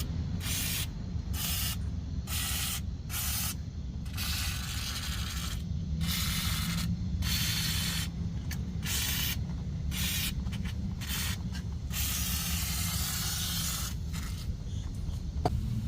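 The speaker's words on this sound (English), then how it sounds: "I'll just spray a bit of WD-40 around all the bolts guys," Aerosol can of WD-40 sprayed onto bolts on a Ford F-150 rear differential, bursts of hissing that start and stop irregularly, some short and some sustained, close up over a low background rumble.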